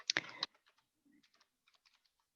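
Typing on a computer keyboard, a quick burst of clustered key clicks followed by scattered lighter taps, close and fairly faint, with a brief voice sound at the start.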